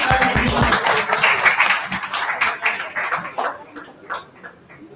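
Audience applause for a professor receiving a faculty excellence award at an international physiotherapy conference, a dense crowd of clapping hands that gradually thins to scattered claps and fades out.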